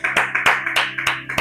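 A church congregation claps together during a Spanish-language Christian service, steady rhythmic hand claps repeating about every third of a second, close and fairly loud with no talk over it.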